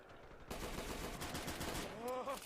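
Sustained gunfire and battle noise in the war video game Men of War: Assault Squad 2, dense and continuous for the whole stretch, with rapid bursts and whistling effects near the end.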